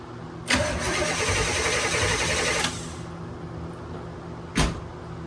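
A truck engine fitted with a new starter cranks briefly and catches, running steadily at a close, loud level for a couple of seconds before cutting off, followed by a short sharp knock.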